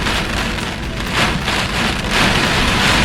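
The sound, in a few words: Hurricane Ian winds and rain battering a car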